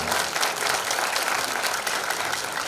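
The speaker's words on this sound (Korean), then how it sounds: "큰 박수로 환영해 주시기 바랍니다." A graduation-ceremony audience at a Gimpo foreign-language high school gives the school board chairman a steady, loud, dense round of applause that holds evenly throughout.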